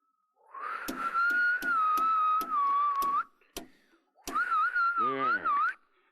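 A person whistles into a microphone for a science demonstration, holding a steady, slightly wavering tone. Sharp clicks break it up, then a pause, then a second long whistled stretch.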